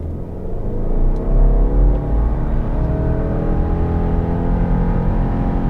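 A 2024 Subaru Legacy Sport's engine roars under hard acceleration from a standstill, a loud, steady low rumble with rising revs that continues throughout.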